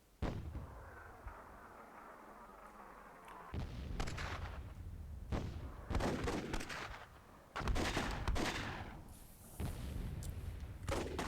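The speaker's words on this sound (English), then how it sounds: "that's an explosion" Explosions and artillery-like booms in the Myth II Soulblighter video game strike in several heavy bursts, each ringing out, with a rumble between hits.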